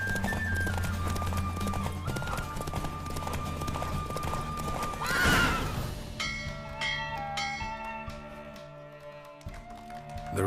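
Hooves clip-clop steadily as a horse gallops through a race in The Witcher 3, with a rushing swell midway and bright bell-like game tones toward the end.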